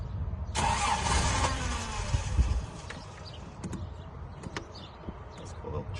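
A 1983 Toyota Land Cruiser engine cranks briefly and catches, settling into a steady idle close by, with no talk over it.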